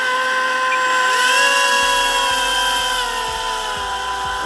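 Scratch-built hovercraft lift fan whining steadily at low speed at a park lake, a loud sustained motor drone with tones that shift and bend partway through, running alone with no talk.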